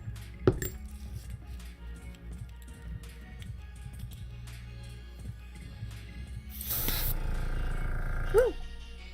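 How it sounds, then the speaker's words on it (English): Spray paint hisses onto a 3D printed D.Va model in one short, loud burst, following a stretch of light clinks and handling noises. "I almost sprayed myself."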